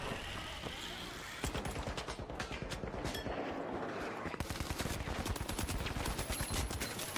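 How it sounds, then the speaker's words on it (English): Rapid automatic gunfire in the shooter game The Finals, loud dense bursts of shots close by, with a quieter lull before the firing picks up again and keeps going. "There's a roof guy shooting somewhere."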